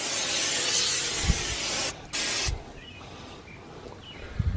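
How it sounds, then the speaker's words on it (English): A steady aerosol hiss of spray onto Weber kettle grill grates runs for a couple of seconds, pauses briefly, then resumes before fading, with a few soft knocks at the end. "I'm gonna go ahead and just get a little spray on here."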